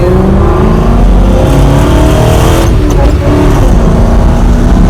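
A modified 262 hp V8 Isuzu KB 400i pickup accelerates up a neighborhood road, its engine roaring loud and continuous with rising revs.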